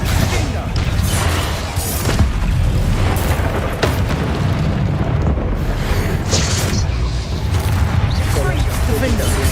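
Confringo explosive spell blasts in Hogwarts Legacy, loud booming bursts in quick succession over continuous game combat noise, with a voice shouting spell names at points.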